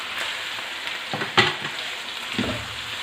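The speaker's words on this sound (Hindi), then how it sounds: "अब इसमें मैं शामिल कर रही हूँ हाफ़ केजी बीफ का कीमा। इसको हम फ्राई करेंगे प्याज और ऑयल में।" Half a kilo of beef mince frying with onion in oil for a Shinwari keema karahi gives a steady close sizzle, with a few louder scraping stirs partway through.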